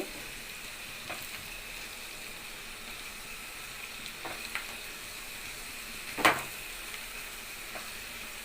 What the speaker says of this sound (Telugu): ఉల్లిపాయ ముక్కలు వేసుకుందాం ఉల్లిపాయ ముక్కలు తొందరగానే మగ్గిపోతాయండి